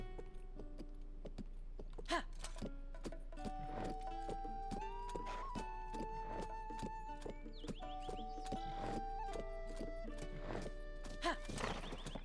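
Horses neigh and whinny over steady clip-clopping hooves in The Legend of Zelda: Tears of the Kingdom, with background music and a few brief louder bursts, fairly close and continuous.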